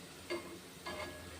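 Bengali sweets deep-frying in hot oil, turned gently until red and crisp, give a soft steady sizzle with two brief louder bursts of bubbling as pieces are moved.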